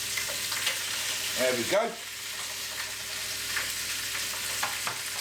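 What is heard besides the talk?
chicken pieces frying and sizzling in pan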